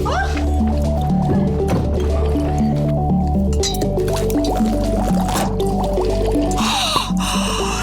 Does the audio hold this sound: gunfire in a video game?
no